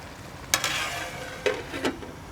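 A spoon stirs karela gosht cooking in oil in a pot, giving a few distinct scraping clacks against a soft, quiet sizzle.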